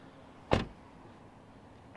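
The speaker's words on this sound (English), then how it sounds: "Let's shut the door." A single solid thud as a MINI Cooper SE electric car door shuts nearby, followed by quiet, with a faint start of another sound at the end.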